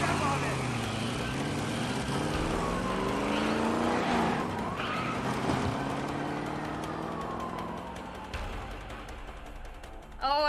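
Car driving in the game A Way Out: a revving engine rising and falling through gear changes, with tire squeal and skidding, loud and sustained under occasional talk.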